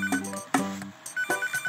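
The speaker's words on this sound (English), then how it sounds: "There's a phone call, so we better," A phone in the cooking game Papa's Freezeria Deluxe rings with short, bright electronic chimes in quick repeating bursts, clear and alone.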